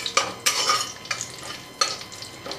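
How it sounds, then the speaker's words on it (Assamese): Spoon scraping and stirring in a pan as sugar, a dried chili and a bay leaf fry in hot oil, with repeated sharp scrapes every half second or so over a steady soft sizzle. "শুকান জলকীয়া দিছোঁ এটা, তেজপাত দি দিছোঁ, এইখিনি অকণমান লৰাই দিছোঁ।"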